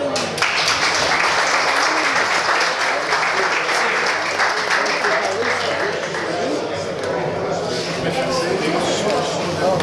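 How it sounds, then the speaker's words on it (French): Audience at a fishing tournament evening event gives a sustained round of applause, dense and even throughout, slightly easing toward the end. "puis on donne un petit peu d'applaudissement"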